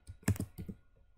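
A computer keyboard is typed on during work in Illustrator, giving a short close burst of several crisp keystrokes in quick succession, followed by a pause and one more click.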